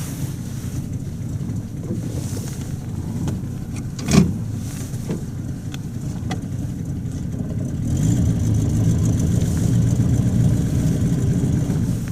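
A Buick Roadmaster's engine idles with a steady low rumble and a loping rhythm. Wind noise sits over it, with a brief thump near four seconds and the rumble growing slightly louder toward the end.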